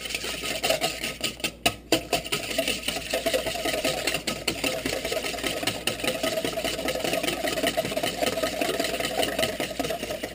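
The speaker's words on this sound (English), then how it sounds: "Whisk that." Cassava cake batter being whisked by hand in a bowl, giving steady rapid scraping and swishing strokes that run continuously up close, with a few louder knocks near the start.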